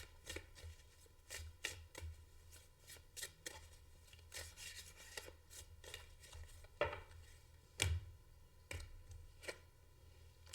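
Tarot cards are shuffled by hand for a reading, with a series of quick, soft riffling flutters and taps repeating up close against a quiet background.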